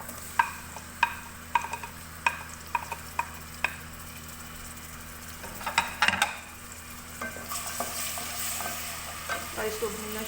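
Chopped tomato fries in a pan with garlic-ginger paste for a moong dal dish. A steady sizzle runs under sharp spoon taps and stirring scrapes, close up and with no voices.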